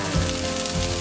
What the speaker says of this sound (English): we're gonna saute this for about 2 minutes till it's kind of golden brown